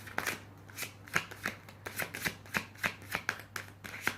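A deck of tarot cards is shuffled for a reading, making a fast, steady run of crisp riffling snaps, about a dozen close, clear bursts with no talk over them.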